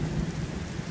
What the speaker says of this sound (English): Well, you have to love a Midwest rainstorm.